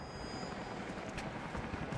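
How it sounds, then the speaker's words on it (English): Helicopters approaching in the game Rise of the Tomb Raider, heard as a steady, dense rotor and engine roar that fills the short stretch at an even loudness, with no talking. "Jacob, helicopters are headed your way."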